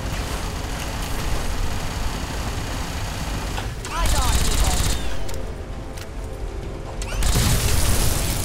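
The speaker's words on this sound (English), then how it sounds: "Me exploding them by a boom is clearly far more dangerous than them actually attacking me." Explosions and gunfire in the video game Fallout New Vegas, a steady dense barrage with two louder booming bursts partway through and near the end, heard under game effects.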